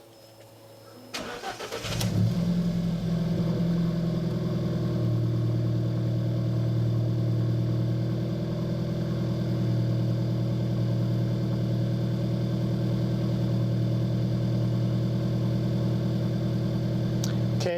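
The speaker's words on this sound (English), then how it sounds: "it says start the engine, so I'm going to do that" An Alfa Romeo car engine cranks and catches after a brief click. It then settles into a steady, close mid-pitched idle that hums on unchanged.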